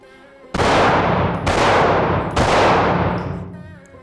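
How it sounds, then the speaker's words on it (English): Three gunshots in a shooting drill against multiple attackers, evenly spaced about a second apart, each loud and close with a long reverberant tail. "We're gonna shoot one, turn, shoot one, turn, shoot one, turn, shoot one."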